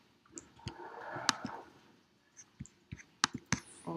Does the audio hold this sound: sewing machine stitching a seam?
no